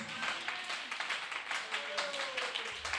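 Congregation at a church service applauding for Jesus Christ, a steady wash of clapping hands with voices mixed in throughout.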